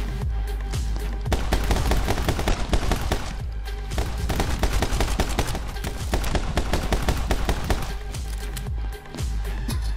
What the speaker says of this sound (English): Alright, I'm starting to get shot at.